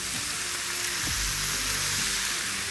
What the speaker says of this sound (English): We got a full griddle of bacon going here